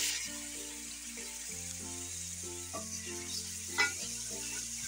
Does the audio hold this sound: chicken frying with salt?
yes